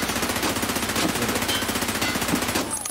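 Rapid gunfire in Escape From Tarkov, a loud close burst of evenly spaced shots repeating steadily for about three seconds with no voices.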